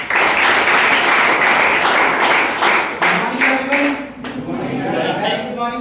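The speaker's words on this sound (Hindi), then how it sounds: "एक बार जोरदार तालियां अंकुश जी के लिए।" Applause for a speaker named Ankush at a business plan presentation, a burst of crowd clapping that thins out after a few seconds as a voice begins talking over the tail end.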